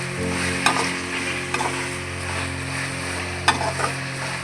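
Ginger garlic paste sizzles in hot oil in a pan while cooking coconut milk rice, a steady close frying hiss broken by a few sharp stirring scrapes.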